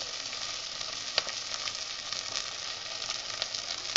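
Brinjal and green chillies fry in a pan over lowered flame for a chutney, giving a steady, close sizzle with a few soft clicks and spatters and no voices.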